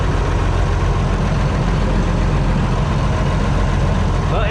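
An engine idles steadily after a thermostat replacement, a loud constant low rumble close by with no change in speed.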